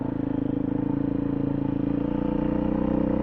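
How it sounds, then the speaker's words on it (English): A four-stroke dual-sport motorcycle engine runs steadily at close range in Colorado, giving a loud, even, throbbing drone with no talk over it. "that's the nice thing about having a 4-stroke like this."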